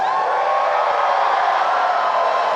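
Crowd noise at an anime convention closing ceremony, San Japan 16, a dense steady roar of cheering and shouting from a large audience that holds loud and continuous throughout without a break.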